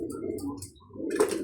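Pigeons on a farm cooing in soft, low murmurs, two short bursts close by with a brief pause between them.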